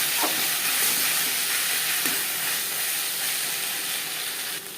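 Ginger and green chilli paste sizzling in oil for a Katla fish belly curry, a loud continuous frying hiss with a few faint scrapes of stirring, easing slightly at the end.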